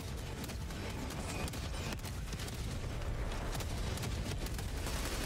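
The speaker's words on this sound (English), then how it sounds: "I think the artillery is knocking us" Artillery cannon fire in the video game Helldivers 2, a dense, continuous barrage of booming blasts and crackling impacts that fills the whole stretch with no talk.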